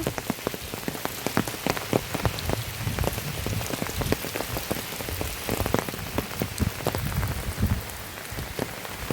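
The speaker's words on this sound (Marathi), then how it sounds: "बारीक बारीक पाऊस लागता" Fine drizzle pattering steadily on surfaces nearby while walking toward the steps of a farm during monsoon, dense irregular drop ticks over a soft wash, moderately loud, with no voices.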